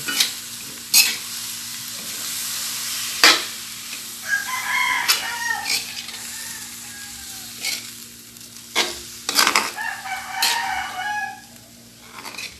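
Chicken arroz caldo stirred in a sizzling pan, with a steady frying hiss, sharp spoon knocks against the metal and scraping strokes. A rooster crows several times in the background.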